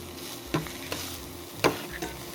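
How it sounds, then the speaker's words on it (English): Shallots fry gently in a pan with a low continuous sizzle, broken by a few sharp scraping stirs of a utensil against the pan, with no talking over it. "So I'm just going to gently fry these shallots, just to take the harsh edge off it"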